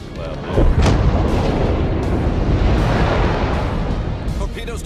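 Warship guns firing in World of Warships, a heavy rumbling boom that swells and rolls on for several seconds, loud and dense, with a voice speaking over it.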